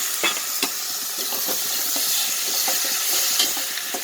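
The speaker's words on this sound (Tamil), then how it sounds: "இந்த வெந்தய குழம்புக்கு வெங்காயம் தக்காளி நல்லா சுருள வதங்கிடணும்" Onions and tomatoes sauté in a pan for a fenugreek onion kuzhambu, a steady close sizzle and hiss with scattered crackles and stirring scrapes, no voices.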